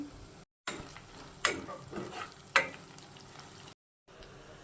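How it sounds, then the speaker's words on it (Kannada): Onion with curry leaves frying in a pan for capsicum chitranna, a quiet steady sizzle punctuated by two sharp stirring clatters, heard close with no voices and short silent gaps. "ಈರುಳ್ಳಿ ಸ್ವಲ್ಪ ಸಾಫ್ಟ್ ಆಗೋವರೆಗೂ ಫ್ರೈ ಮಾಡಿಕೊಂಡು ಕರಿಬೇವಿನ ಸೊಪ್ಪನ್ನ ಆ್ಯಡ್ ಮಾಡ್ಕೊತೀನಿ"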